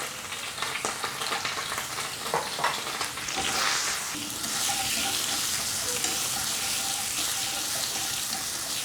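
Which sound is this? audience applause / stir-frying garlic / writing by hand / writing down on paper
stir-frying garlic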